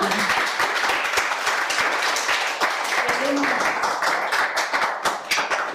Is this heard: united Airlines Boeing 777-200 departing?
no